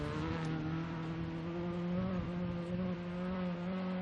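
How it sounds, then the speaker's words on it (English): A Honda VTEC car engine holds steady at high revs at a gravel rally event, a loud sustained buzzing whine that bounces off the rev limiter. No one speaks. "We can hear the sounds of the VTEC engine hitting the limiter there."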